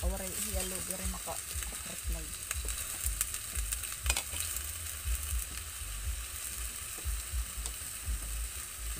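Chicken adobo fries in a pan in its own rendered fat, a continuous crackling sizzle with stirring scrapes, and a voice speaks briefly at the start.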